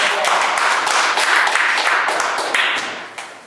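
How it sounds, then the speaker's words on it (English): A brief round of clapping from a small group fills the moment, dense close hand claps that taper off toward the end. "One more applause."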